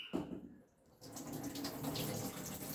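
Running water from a tap pours as rice and lentils are rinsed in a bowl, a brief splash first, then a steady, close rushing flow after a short lull.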